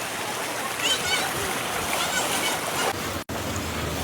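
Floodwater from heavy rain rushes and splashes loudly and steadily through a flooded street lined with shops, a broad constant roar with a brief drop near the end.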